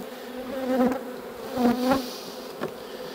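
Honeybees buzz at an open beehive, a droning hum that swells in two loud waves and then leaves a brief closer buzz before fading back to a steady background drone.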